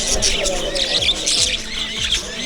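Many birds of various kinds squawk and chirp together in a dense, continuous chorus at an old bird market in Kabul, Afghanistan, with crowd murmur and voices underneath.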